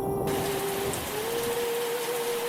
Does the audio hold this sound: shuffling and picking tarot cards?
no